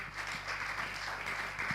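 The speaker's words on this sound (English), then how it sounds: "Please clap for them." Faint applause for a panel at a Nigerian local governance forum: soft, even clapping from a hall audience, distant and low in level over a steady room hum.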